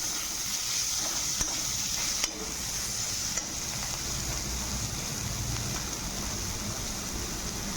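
Karela pieces sizzle in hot oil in a pan, a constant hissing fry with a few sharp knocks of a spatula early on, heard alone and close.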